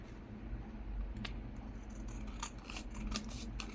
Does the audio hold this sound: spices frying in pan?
no